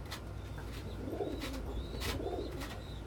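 Homing pigeons coo in a loft, two soft rolling coos close by over a steady low background hum, with no talk.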